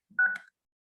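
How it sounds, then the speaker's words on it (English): A single brief telephone keypad tone sounds as a digit is dialed, a short, clear electronic beep. "You type the number of the other phone, okay?"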